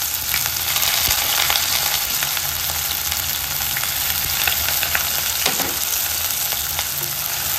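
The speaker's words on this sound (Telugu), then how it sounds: "ఉల్లిపాయ పచ్చిమిర్చి బాగా ఫ్రై అవ్వాలి." Sliced onions and green chillies fry in hot oil for a mutton curry, a loud, dense, steady sizzle with occasional faint crackles and stirring, no voices.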